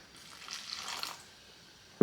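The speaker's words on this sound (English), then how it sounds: "We're going to slowly add in our water." A soft, brief trickle of water being poured, faint and close, followed by a short knock at the end.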